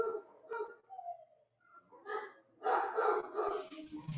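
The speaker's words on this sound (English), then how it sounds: "my dogs are going absolutely batshit" Excited dogs bark repeatedly at a home delivery from Amazon, the barks coming in bursts that grow louder and denser toward the end, close by and with no talk over them.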